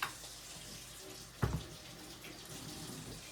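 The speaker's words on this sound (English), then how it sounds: "I'm going to go wash my hands" Tap water runs steadily into a kitchen sink for hand washing, a continuous hiss with a brief splashing burst midway, no talking over it.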